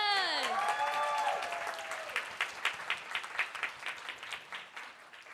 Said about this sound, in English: Can we have one big round of applause for our speakers?